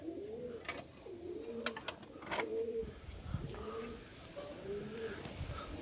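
Domestic pigeons coo in repeated soft, low rolling calls from a rooftop loft on a hot day, several birds close by with faint chatter and background noise between the phrases.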